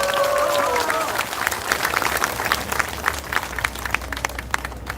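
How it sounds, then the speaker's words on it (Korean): Applause from a crowd at a political rally in Korea, dense clapping that stays steady for the whole stretch with some voices mixed in. "여러분 이분들께 박수 한번 보냅시다."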